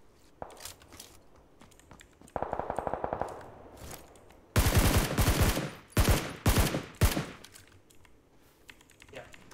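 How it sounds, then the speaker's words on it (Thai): Rapid bursts of automatic gunfire in the battle game PUBG, several loud, dense volleys close by, with earlier lighter clicking and a short rattling burst, over faint background sound. "อะไรวะปืนลั่นเหรอ"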